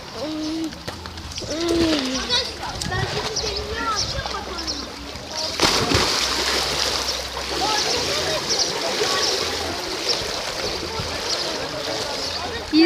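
A person swimming outdoors in cold water, with splashing heard under ongoing talk and some birdlike calls in the background.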